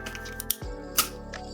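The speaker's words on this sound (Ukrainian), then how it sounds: "Знову взвожу затвор" A 50-year-old film camera's shutter being cocked and released: short mechanical clicks and a sharp snap near the middle, with a second click shortly after, close and fairly quiet, no talking.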